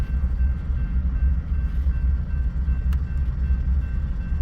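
Norfolk Southern-led freight train rolling through Bailey Yard with a foreign power unit in the second slot, a steady heavy low rumble filling the scene with a faint thin tone above and a brief sharp clank near the end.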